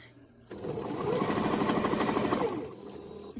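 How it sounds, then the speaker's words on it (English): A sewing machine runs a backstitch on a pillow, a close rapid mechanical whirring chatter lasting about two seconds after a quiet start, then winding down. "And we're going to backstitch right here."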